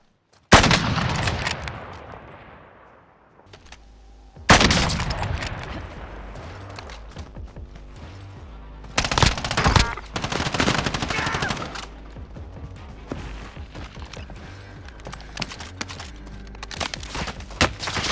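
Heavy automatic gunfire and scattered shots from a Call of Duty Warzone match, loud bursts recurring throughout with brief quieter gaps between volleys and faint voice chatter mixed in.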